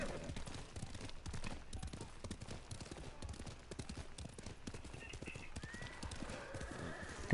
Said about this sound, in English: Oh good, he's got a horse too.